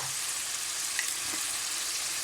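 Tomatoes and spices frying in a pan for kaleji make a soft, continuous hiss and sizzle at moderate distance, steady throughout with no voices.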